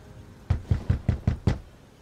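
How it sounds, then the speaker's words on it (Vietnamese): Rapid knocking on a wooden door: six quick, evenly spaced knocks in a short burst, moderately close and crisp against quiet surroundings. "Nghe tiếng gỗ cửa dồn dập,"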